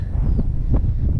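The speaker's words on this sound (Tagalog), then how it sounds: "Lamay ang hangin doon guys." Wind blowing outdoors at a family outing, a steady low rumble buffeting the microphone with faint rustling throughout.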